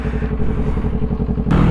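A Kawasaki Ninja 400 sport bike idles nearby in traffic, a close, even engine pulse with a slight clatter, picking up briefly near the end.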